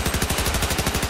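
Rapid automatic gunfire from the Battlefield 4 zombies mode fills the moment, a dense, steady stream of loud shots with no pauses.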